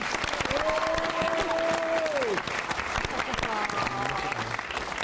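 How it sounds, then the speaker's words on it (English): Studio audience applause for the drawers on a kids music special of a TV music quiz show, a steady dense wash of clapping lasting throughout, with a sustained musical tone and some voices underneath. "Can we have a round of applause for all our drawers?"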